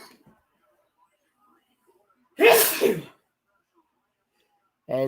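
A single loud, close human sneeze bursts out of near silence, followed a couple of seconds later by the start of a spoken voice.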